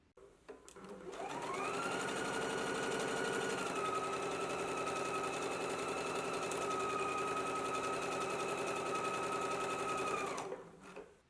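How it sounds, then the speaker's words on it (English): A sewing machine starts up and stitches steadily for about nine seconds with a fast, even mechanical whir, then winds down and stops. "I'm going to go to the sewing machine and we're going to stitch it"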